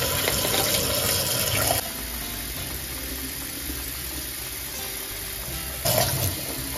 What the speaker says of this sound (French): je vais venir mettre 450 ml d'eau chaude dans mon flacon